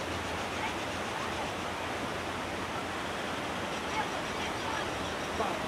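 A river rushing beneath a dangerous footbridge gives a dense, steady broadband roar that stays even and loud throughout without voices.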